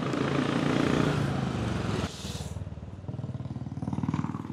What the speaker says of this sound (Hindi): अब हम प्रॉपर ऐसी सड़क में जहाँ पे काफ़ी ट्रैफिक है काफ़ी बाइक वाइक जा रही है